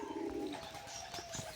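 A male pigeon cooing close by, a soft low coo followed by a few brief chirpy bird notes, fairly quiet against faint background noise and with no talking.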